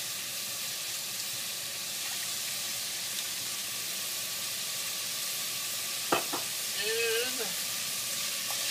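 Steady broadband sizzle of food frying in olive oil for New England clam chowder, with a few scrapes of stirring near the end and a brief voice over it.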